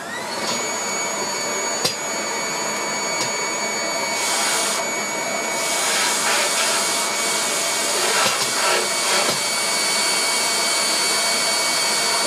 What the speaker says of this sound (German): Staubsauger an.